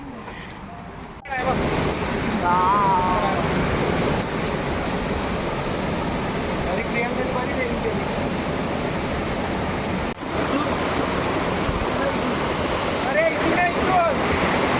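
Tandulwadi waterfall on a dry, rainless day: a loud, steady rushing roar of falling water fills the whole stretch, with voices faintly heard over it.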